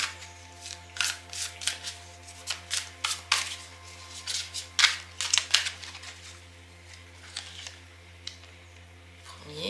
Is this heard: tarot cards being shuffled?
yes